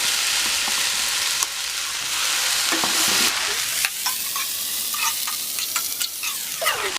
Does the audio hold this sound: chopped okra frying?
yes